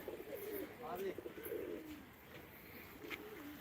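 Soft pigeon coos drift in and out against a steady outdoor background, with people talking nearby.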